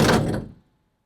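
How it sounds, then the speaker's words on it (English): A hopper trailer's metal door is cranked open a few inches, giving a single close, loud clunk and brief scraping rumble that dies away within about half a second. "So I'll open the door up a little bit, I don't know, 4 or 5 inches open"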